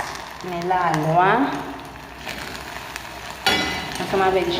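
Food sizzles steadily in a hot pan while a person talks over the crackling.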